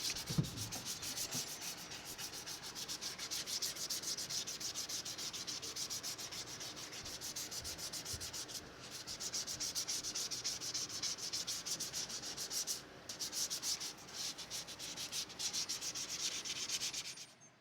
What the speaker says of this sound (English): I'm just going back and forth and getting all of the excess filler off the body